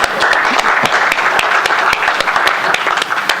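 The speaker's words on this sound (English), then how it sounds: "we applaud you all" Applause for police precinct commanders at a city budget hearing: a dense, steady burst of many hands clapping close by, with sharp individual claps standing out throughout.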